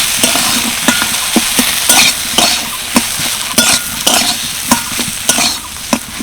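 A spiced potato filling, seasoned with dried fenugreek leaves and meant for pumpkin leaf rolls, is stirred in a sizzling frying pan, with a spoon scraping and tapping the pan in a steady, repeated rhythm over continuous frying hiss.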